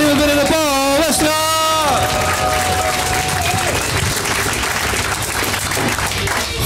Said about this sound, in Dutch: Klappen, klappen, klappen.